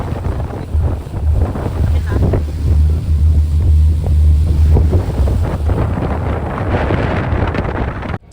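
Ferry crossing to Tingloy, Batangas: a steady low engine drone with heavy wind buffeting the microphone and open-water rush, loud and continuous throughout.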